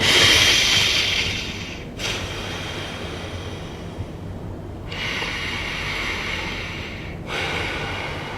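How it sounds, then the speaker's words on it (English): Loud, close breathing through the nose, with a strong rushing inhale at the start and further airy breaths around two, five and seven seconds, steady low background noise beneath, no talking. "alternate nostril breathing is breathing through one and then switching or alternating to the other"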